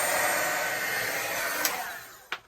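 A hair dryer blows across an inked art journal page in a steady, loud whooshing drone that fades slightly near the end, punctuated by a couple of brief clicks as it is handled and switched off.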